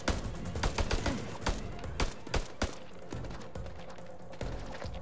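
Sharp gunfire cracks in House of Ashes, a rapid scattered fusillade of close shots in bursts, loudest early and thinning out toward the end, with no voices over it.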